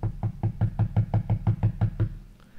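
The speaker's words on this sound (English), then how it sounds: "Then the friend knocked." Rapid even knocking on a door, about a dozen quick solid thumps in a steady rhythm, close and fairly loud, then stopping.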